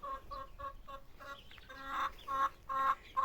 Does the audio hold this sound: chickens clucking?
yes